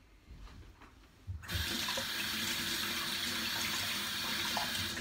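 Running tap water pours steadily into a sink as food is rinsed under it, starting abruptly after a quiet moment and continuing loud and even to the end.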